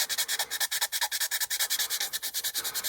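Rapid rhythmic rasping of sandpaper scrubbing back and forth on a hard plastic model kit (1/48 B-25J bomber), close up, in quick even strokes.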